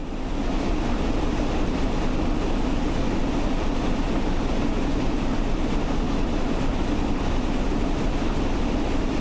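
Flying Scotsman steam locomotive running on a bumpy stretch of track in Train Sim World: a constant, loud, dense rumble and rush of wheels and carriage noise with no letup and no voices.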